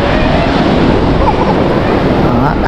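Ocean surf rolls onto the shore in a constant loud roar mixed with wind buffeting the microphone, with no clear breaks between waves.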